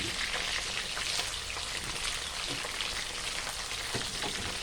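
Mackerel frying in hot oil in a pan that is shaken to spread the oil, a loud, continuous close sizzle with crackling spatter and no pauses.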